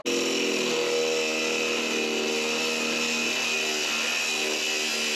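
A power tool cutting off a seized nut aboard an Ocean Pirate 34 boat, with a steady, high, continuous whine and grind that holds for about five seconds and then stops abruptly.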